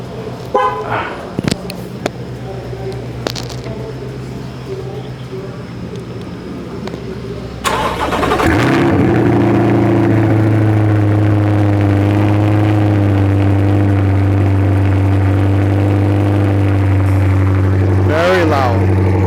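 A Corvette C8 with a newly installed aftermarket exhaust starts up and settles into a loud, steady idle with a deep exhaust rumble, following quieter background noise and a brief clunk.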